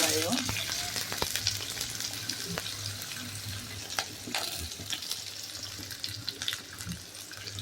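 Chopped onions fry in oil with cumin in a pan for soya fried rice, a busy close sizzle with frequent stirring scrapes and clinks running throughout; no voices.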